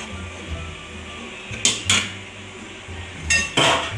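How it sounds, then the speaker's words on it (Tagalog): Rice cakes (puto maya) being set into a metal steamer pot over boiling water, giving two sharp clinks of metal around the middle of the clip and two more toward the end, close and fairly loud over a low hum. "Ilagay na natin siya sa steamer."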